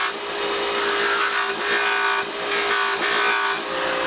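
Wooden box spinning on a lathe while V-notches are cut into it, a steady whirring hum with several pulsing bursts of higher scraping as the tool bites in and eases off.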